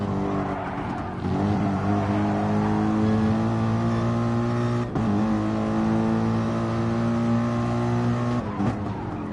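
Gr3 race cars at Laguna Seca in a sim racing game produce a sustained, loud engine drone whose pitch climbs steadily, with brief breaks at gear shifts and a faint tire squeal, with no voices over it.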